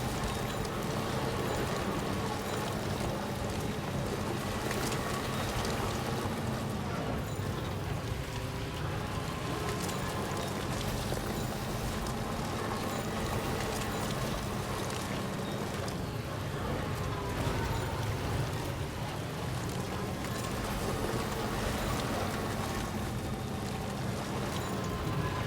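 Steady rain pours down across the whole stretch in the video game Death Stranding 2, a dense, even wash of drops pattering on surfaces with a faint low hum underneath and no voices.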